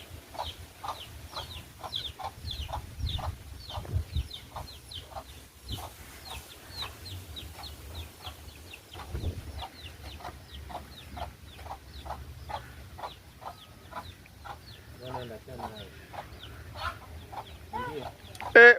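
Chickens cluck softly and steadily in quick, repeated bursts throughout. Faint low background rumble sits underneath, with a louder thump near the end.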